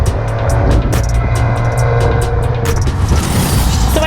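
A Maserati Levante S GranLusso SUV moves in reverse, with a steady close engine and road rumble under a series of faint, regular ticking clicks.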